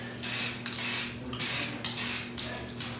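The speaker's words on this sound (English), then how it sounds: "this makes your finger tired spraying a spray paint can" A Rust-Oleum frosted clear spray paint can hisses in repeated bursts as it is sprayed onto pantry doors, each spray lasting about half a second with short pauses between, loud and close with no talking.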